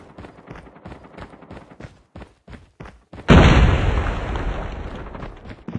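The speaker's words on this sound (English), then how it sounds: "Grenade! Need backup!" In Call of Duty, a grenade goes off with a sudden heavy boom after a series of footsteps and clicks, followed by a long rumbling decay.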